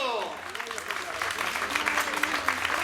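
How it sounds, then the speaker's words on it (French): A race audience at the Grand Prix Lucien Fouchy applauds the winner with dense, steady clapping from a crowd, faint at first and building through the clip, with a voice over the start. "On peut l'applaudir très très fort."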